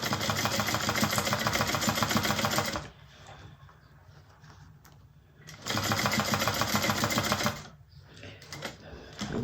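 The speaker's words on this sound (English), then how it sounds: "We're just top stitching." Sewing machine top stitching a bag, running in two loud continuous bursts of rapid stitching separated by a quiet pause with light handling noise, then starting again at the end.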